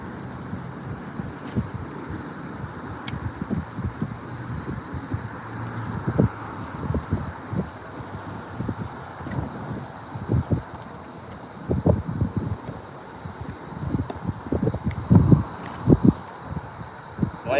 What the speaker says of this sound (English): Windy, right?